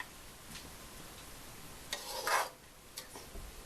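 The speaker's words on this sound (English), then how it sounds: "And stir that together, and the sauce will be pretty much done." A spoon stirs a sauce in a pan: soft scraping and rubbing strokes come close and fairly quiet, with a few louder clinks and rasps over a faint sizzling background and no talk.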